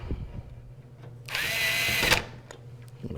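A power screwdriver drives a screw while a computer motherboard is mounted in a case: one close, whining burst of about a second in the middle, with faint handling clicks before and after.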